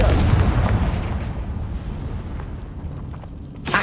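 A Confringo spell blast in the wizarding video game Hogwarts Legacy erupts as a loud, booming explosion with a long rumbling roar that slowly fades, then a fresh burst flares at the very end.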